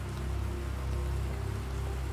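Steady, soft rain in a planet-terraforming survival game, a continuous even patter with low rumble that holds at a faint level throughout without any talking.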